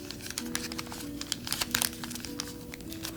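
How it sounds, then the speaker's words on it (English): Origami paper being folded into a lily, giving soft crinkly rustles and brief crisp creases in an irregular rhythm, fairly close and quiet, with no talking. "And now I am folding this back"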